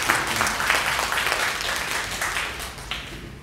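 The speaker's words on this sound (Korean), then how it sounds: "잘 박수 한번 쳐드리겠습니다." A church congregation at a Wednesday evening service claps together in steady, dense applause that fills the room and tapers slightly toward the end.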